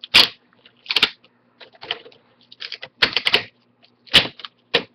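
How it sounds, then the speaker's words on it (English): Sharp plastic snaps and clicks as the screen bezel of an HP Pavilion M6 laptop is pried away from the display, coming in irregular bursts of single and double cracks, close and loud, with no talk. "just kind of peel the screen away, or the bezel away from the screen"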